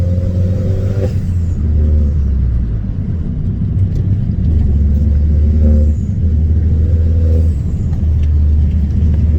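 A car engine roars loudly and continuously, revving up and dropping back several times as gears change, close and dominant.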